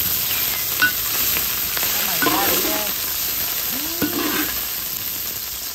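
Shallot, ginger and spices such as star anise, fennel and thyme fry in a pan, a steady sizzle with a spoon stirring and scraping now and then, close and moderately loud, with brief soft speech.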